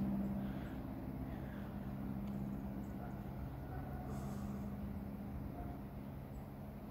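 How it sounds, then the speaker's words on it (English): A BNSF train, locomotive 5703, rumbling steadily eastbound, a continuous low mechanical roar that holds at a fairly even level with faint squeals above. "it sounds like this train has came early."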